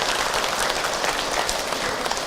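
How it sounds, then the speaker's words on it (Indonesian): A seated audience at a Ramadan religious talk applauds together, a dense, even clatter of many hands lasting a couple of seconds with no speech over it. "Tepuk tangan untuk kita semua."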